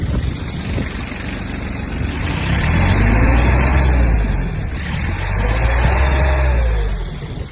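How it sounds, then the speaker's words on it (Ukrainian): A small Kubota A-17 Japanese mini tractor engine runs close by, rising into two revs that swell and fall back toward idle, with a steady mechanical hum. "масляний фільтр замінено, вихлоп чистий, давайте піддам газу"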